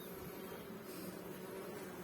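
Dense, continuous buzzing of many honeybees at a hive with frames full of brood, a steady low hum without pauses.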